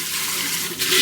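Hot water runs and splashes as a still-warm pan is rinsed and scrubbed with a bamboo brush, a steady close rushing wash that surges near the end.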